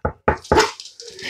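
A Yorkshire Terrier gives three quick, sharp barks close by, with singing following the barks.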